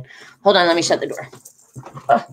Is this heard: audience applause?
no